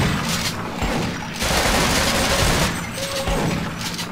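Sustained, dense gunfire and rumbling explosions in the video game Sven Co-op, loud and continuous with brief dips, filling the whole stretch without speech.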